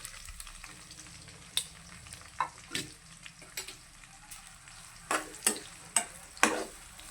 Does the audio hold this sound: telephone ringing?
no